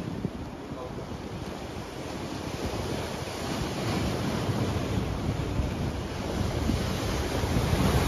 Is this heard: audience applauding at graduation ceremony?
no